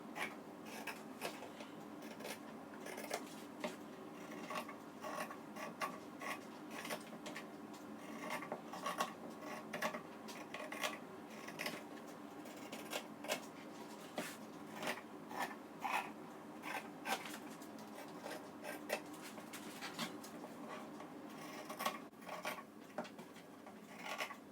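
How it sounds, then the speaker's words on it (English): Scissors snip out fabric pieces for a bag in a quiet room, a long run of soft, repeated cuts and rustles in uneven rhythm, close and faint. "Now I'm just going to cut these out."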